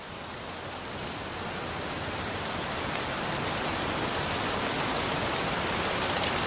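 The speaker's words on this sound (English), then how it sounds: "How to change sunny weather suddenly into rain like this?" Realistic rain added as an editing-app sound effect, a dense, even hiss of falling rain that rises gently and then holds steady, with no voices.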